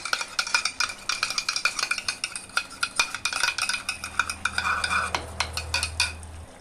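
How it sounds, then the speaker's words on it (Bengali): A spoon stirs sour yogurt into a spiced meatball mixture in a pan with bay leaf, dried chilies and coriander powder, giving rapid rhythmic scraping and clinking over a light sizzle, close and alone. "টক দইটা ভালো করে এবার মিশিয়ে নিতে হবে"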